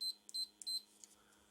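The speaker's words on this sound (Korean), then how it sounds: "테스터기 부저 테스터기입니다." Continuity buzzer on an electrical tester used to check a pressure switch's contacts for a fire pump, sounding three short, loud, high electronic beeps in a steady rhythm, clean and alone.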